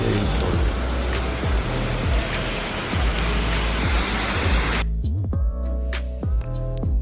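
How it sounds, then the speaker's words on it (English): Heavy rain pours down in a Tokyo rainstorm, a dense steady roar for about five seconds before it cuts away to quieter sounds with background music. "Insane rainstorm."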